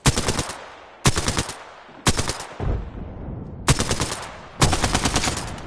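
Apex Legends gunfire comes in five loud, sharp automatic bursts, each a rapid string of shots separated by short pauses, with no talking.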